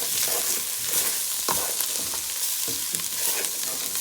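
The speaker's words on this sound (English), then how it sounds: "We're going to give it a nice mix." Chicken and lentil stew being stirred in a pot, with steady sizzling and a few soft spoon scrapes against the pot, close and moderately loud, with no talking.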